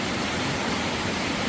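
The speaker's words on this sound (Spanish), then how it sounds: "Yo calculo que es un río." River water rushes past on a ranch, a loud, dense and unbroken roar of flowing water heard up close with no other sounds.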